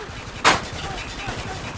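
A single sharp, loud pistol shot from Spec Ops: The Line cracks out near the start and then trails off into a faint background rumble.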